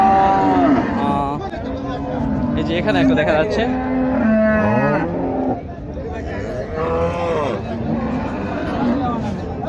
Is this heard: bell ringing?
no